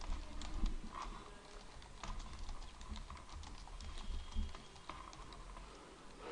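Keys clicking steadily on a computer keyboard while text is typed into an MS Word document, a quiet, close patter of irregular taps with no talking.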